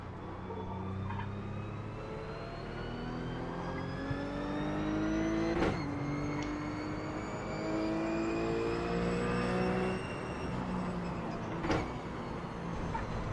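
RUF Cup race car engine in iRacing at Summit Point Raceway, a steady, droning rev that climbs through the gears with brief shift breaks, heard from inside the car.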